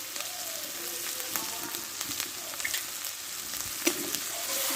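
Masala with salt and turmeric frying in a pan, a continuous close hiss of sizzling oil with faint scraping of stirring running through it, no voices.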